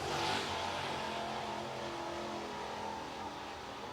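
Mid-East modified race cars running at Cherokee Speedway, a continuous roar of engines droning past at a steady mid distance with crowd-ambience wash, no talking.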